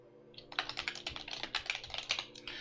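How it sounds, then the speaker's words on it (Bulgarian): Typing on a computer keyboard while filling in a web contact form: a quick, irregular run of close, crisp key clicks after a brief pause, with no talk. "Въвеждам моето име."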